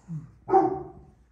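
A 12-year-old dog in a backyard barks upward toward a squirrel in the trees, giving a soft low woof followed by one louder, fuller bark that trails off, close to the microphone.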